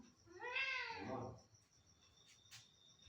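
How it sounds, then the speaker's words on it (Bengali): A cat gives a single drawn-out, rising-then-falling meow, fairly faint and indoors, followed by quiet room sound and a couple of faint brief clicks. "দেখ তো বিড়ালটা এসছে কি দেখ"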